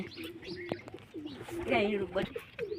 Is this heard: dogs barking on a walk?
no